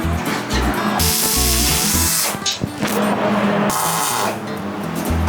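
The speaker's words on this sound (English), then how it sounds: "Oh yeah, she's welding better." Steady buzzing crackle of a MIG welder fusing shock brackets and a bedframe on a 1948 GMC pickup truck, loud and continuous with short pauses between welding bursts.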